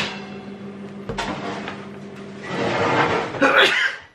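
A single sharp sneeze bursts out around the middle, followed by a rustle and a short breathy noise, with faint background hum throughout.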